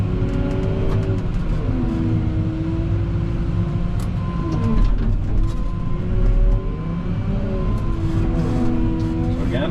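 A wheel loader's diesel engine drones steadily and loudly, with a brief rise in effort partway through as the bucket curls, lifts and backs away from the pile.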